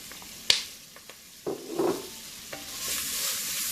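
Onions added to a hot stew pot on an electric stove over high heat, with soft sizzling under scraping and stirring, a few clicks and clatters, and sizzle growing louder toward the end.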